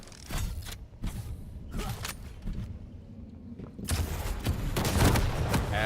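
Rocket launcher fire and impacts in a Quake Champions duel match, with several sharp broadband blasts spread through the clip, loud and close, and a dense burst of explosions near the end over a steady game background.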